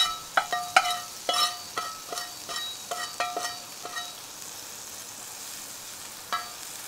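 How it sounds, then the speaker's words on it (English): Mushrooms warm in Wagyu fat and bacon fat with a soft, steady sizzle, while a utensil taps and scrapes the pan in a quick run of clicks that fade, then one more tap near the end. "going to go ahead and just warm up these mushrooms and some of this Wagyu fat and bacon fat"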